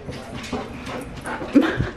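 A dog eager for a ball whimpers and lets out short yips and barks in quick uneven bursts, close and fairly loud, over faint background room noise.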